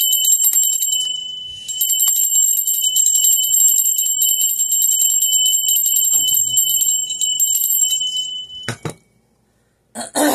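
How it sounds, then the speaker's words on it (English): A bell rung repeatedly in rapid, steady trills with a sustained bright ring, starting after a short pause and running for several seconds before fading, ending with a couple of brief knocks. "I'm going to ring my bell."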